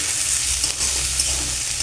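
Onion and vegetables fry in a hot wok for a pasta dish, giving a brief, loud, close sizzle with stirring scrapes.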